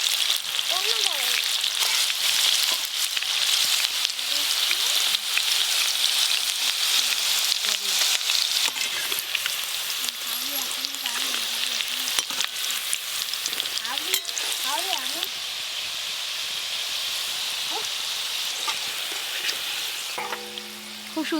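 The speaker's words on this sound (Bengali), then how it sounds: "ধীরে ধীরে কিন্তু ভাজা হওয়া শুরু হয়ে গেছে, রংটাও চেঞ্জ হয়ে যাচ্ছে।" Crispy chicken pieces sizzle steadily in hot oil, a dense, continuous bright crackle that holds for the whole stretch with occasional stirring and a few faint background voices.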